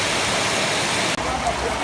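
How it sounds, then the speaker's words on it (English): Heavy rain pouring down in Nigeria, a dense close hiss of downpour that briefly cuts out for an instant, then continues. "It's the last rains and I'm really not trying to step out in this."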